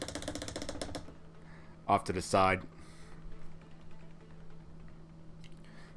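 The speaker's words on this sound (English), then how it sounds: "but that is the sound of me cleaning my brush off" Brush for painting a Primaris Bladeguard Veteran miniature being cleaned in a water jar, a quick burst of rapid clicking and tapping against the glass, close and fairly loud, with brief talk beforehand.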